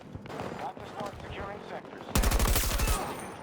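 A light machine gun fires in Battlefield 2042, a rapid close burst of gunfire after about two seconds of quieter in-game sounds under a voice.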